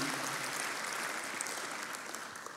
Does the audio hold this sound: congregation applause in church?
yes